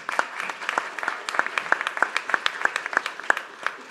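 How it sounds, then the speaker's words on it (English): Applause for a panelist named Suzanne at a fisheries and aquaculture conference, with a few distinct, close, rhythmic claps standing out over a softer audience clapping for about four seconds. "a warm round of applause for Suzanne."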